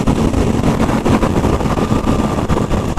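A stock Aprilia RS660 sport motorcycle exhaust rumbles continuously up close, a dense, gritty engine note with wind buffeting and no speech.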